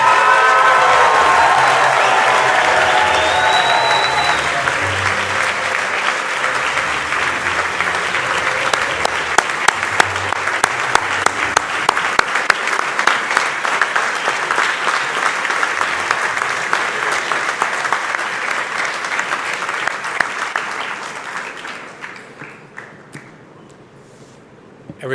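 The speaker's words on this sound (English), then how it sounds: "Let's give these students, along with everyone here, a loud round of applause." Loud, sustained audience applause at a medical school white coat ceremony for the class of 2024, a dense mass of clapping with cheers and a whistle early on, slowly thinning and fading out near the end.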